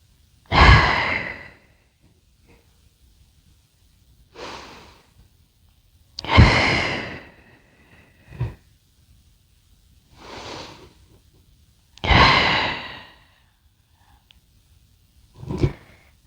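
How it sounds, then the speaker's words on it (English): Deep breathing in through the nose and out through the mouth during a yoga session: about seven slow, loud breath sounds spaced a couple of seconds apart, close and alone, with quiet gaps between them. "Always in through the nose, out through the mouth today."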